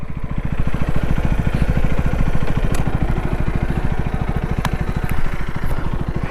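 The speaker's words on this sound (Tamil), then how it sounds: "வண்டியோட எக்ஸாஸ்ட் நோட் பாருங்கள்." A 2024 KTM Duke 250 single-cylinder motorcycle idling close by, its exhaust giving a steady, rapid, loud thumping pulse throughout with a few faint clicks on top.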